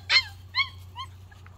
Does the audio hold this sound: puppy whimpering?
yes